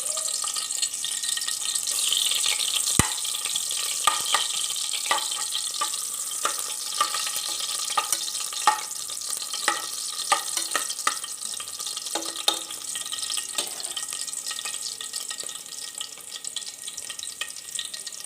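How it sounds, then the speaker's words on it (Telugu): Onions frying in hot oil over a low flame, a steady bright sizzle throughout with scattered crackles and occasional utensil taps, close and continuous with no voices. "స్లో ఫ్లేమ్లో పెట్టుకొని ఆయిల్ బాగా హీట్ అయ్యాక కొన్ని ఆనియన్స్"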